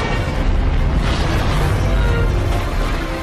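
Loud, continuous explosion sound effect of a missile striking during the Japanese attack on Pearl Harbor, a dense booming roar with heavy low rumble sustained for about three seconds.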